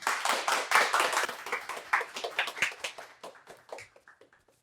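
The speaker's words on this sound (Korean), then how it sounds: "큰 박수로 맞이해 주시면 감사하겠습니다." Live audience clapping warmly to welcome a guest lecturer, a disaster survivor, at a monthly healing forum; dense applause at first, thinning into scattered claps as it fades out.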